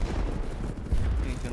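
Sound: gunfire in video game BattleBit Remastered

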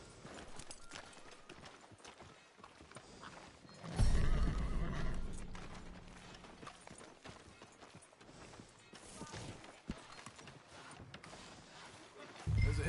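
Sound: horse neighing, from a video game

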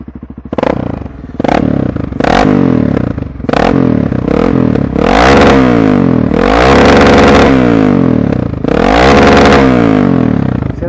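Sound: Honda NX4 Falcon motorcycle engine revving

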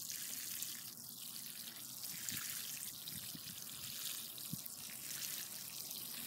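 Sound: watering in transplanted zucchini seedling

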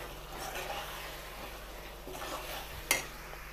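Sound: stirring eggplant and tomato in a pan

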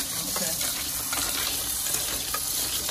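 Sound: washing dried sorrel in a colander with cold water

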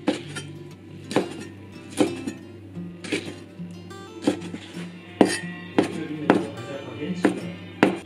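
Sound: chopping wood ear mushrooms with a knife

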